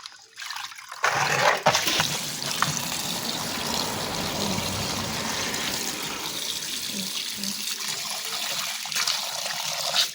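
Tap water runs steadily and fairly loud into a sink as bamboo shoots and termite mushrooms are washed, the broad rushing flow continuing alone without talk for the whole stretch.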